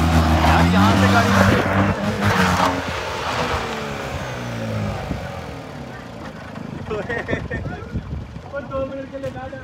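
A Tata Nano car strains on a steep off-road slope during an off-roading outing alongside a Jeep Rubicon. The engine drones loudly, with scraping and rough rolling noise, while people talk excitedly over it throughout.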